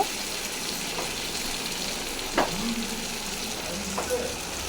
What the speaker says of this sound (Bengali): মশলার সাথে চিকেনটা একদম কষানো হয়ে গেছে।